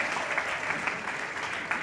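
An audience of students claps at a qawwali music show, a steady, even rattle of many hands at moderate volume that carries on throughout.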